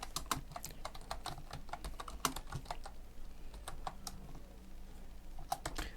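Quick, close clicks of computer keyboard keys tapped in irregular bursts as a command is entered, crisp against a quiet room.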